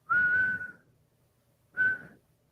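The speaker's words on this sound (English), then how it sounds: "I could whistle a little bit. I'm not great, but I can make sounds out of a whistle" Two clear whistled notes from a person, the first held about half a second, a pause, then a shorter second note, close and alone.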